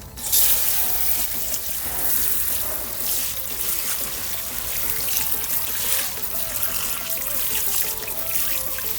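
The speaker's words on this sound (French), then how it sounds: "Et ensuite on rince." Water sprays steadily onto a car wheel being rinsed, a loud continuous hiss and splatter close by, with no one speaking.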